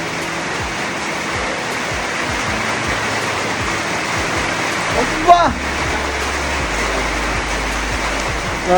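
Heavy monsoon rain pouring outdoors, a loud steady wash of broadband noise with a brief clunk partway through and a low hum entering near the end.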